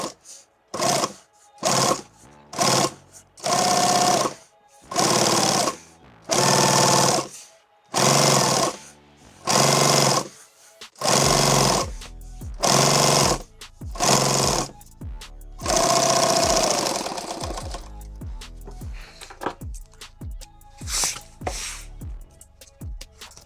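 A sewing machine hems fabric for a six-magazine pistol pack about half an inch from the edge. It rattles in a long series of loud, evenly spaced bursts with short pauses between them, and a longer run comes near the end.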